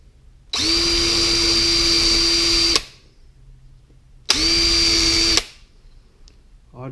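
A small power drill bores eye holes into a wooden topwater fishing lure in two loud, steady bursts of whining motor, each a few seconds long, with a short pause between them.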